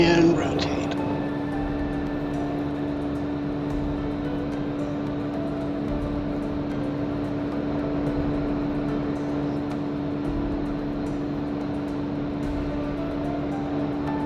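A Cirrus SR22 G3 piston engine holds a steady, full-power drone through takeoff rotation in the X-Plane 12 flight simulator, a constant tonal hum with a low rumble and no speech.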